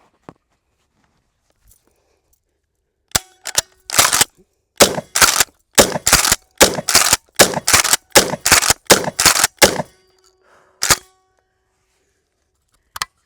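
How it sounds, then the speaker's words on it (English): Kel-Tec KSG pump-action 12 gauge shotgun fired rapidly in a string of about a dozen sharp, loud blasts with quick pump cycling between shots, preceded by a single report and followed by a couple of isolated shots. "we're going to go in with the Kel-Tec KSG. This is a pump 12 gauge."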